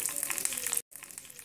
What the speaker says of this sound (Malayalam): ഈ കടുകൊന്ന് പൊട്ടി വരട്ടെ.